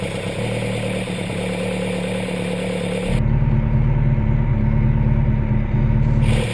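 A tuned Pinto engine with a performance cam and twin Weber DCOE carburetors idles steadily close by, a throbbing mechanical rumble that steps up in loudness and pitch partway through, with no talking.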